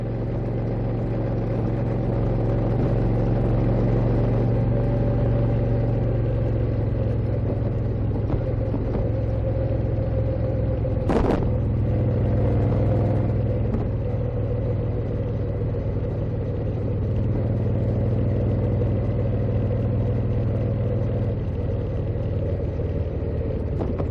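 A Moto Guzzi Eldorado motorcycle rides along a backroad, a steady low engine rumble with wind noise sustained throughout, one brief sharp bump or click midway, no voices over it.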